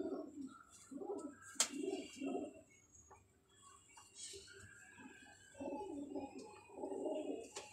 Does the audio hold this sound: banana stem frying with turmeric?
no